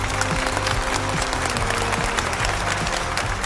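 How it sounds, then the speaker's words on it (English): Audience applause welcoming Sim Seera, a continuous wash of clapping at fairly loud level, with a steady low hum running beneath the dense, even applause. "Sim Seera, give a round of applause"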